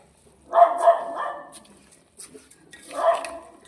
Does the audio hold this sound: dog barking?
yes